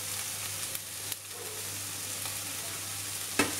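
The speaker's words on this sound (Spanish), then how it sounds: "que se pochen los pimientos con la cebolla" Peppers and onion with chopped, seeded chili sautéing in a frying pan, a continuous close sizzle broken by a few sharp clicks and scrapes of stirring.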